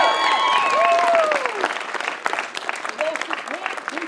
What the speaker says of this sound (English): Round of applause for the coaches.